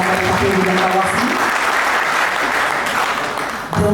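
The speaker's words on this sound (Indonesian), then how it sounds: "Kita sambut dengan tepuk tangan yang meriah untuk KPU dan Bawaslu." A crowd at a gubernatorial candidate registration event in Papua Barat claps for the KPU and Bawaslu election bodies, giving loud, sustained, close applause that fills the whole moment and tapers slightly at the end.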